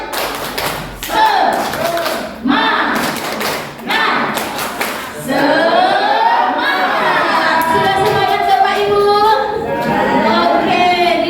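A school audience performs the 'tepuk semangat' clapping chant, several loud, sharply timed claps in rhythmic bursts, then a group of voices shouting the chant together in unison.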